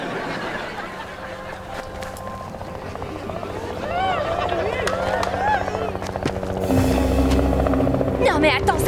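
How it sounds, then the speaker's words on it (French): A helicopter drones steadily under excited cartoon-style voices, its rotor and engine growing louder and more dominant toward the end. "c'est un hélicoptère!"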